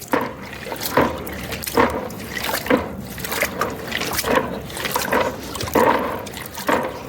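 Koi pond filter media being washed and squeezed in water, with repeated close sloshing and splashing in an uneven rhythm and no talking.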